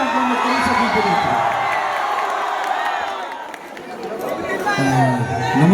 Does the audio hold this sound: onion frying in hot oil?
no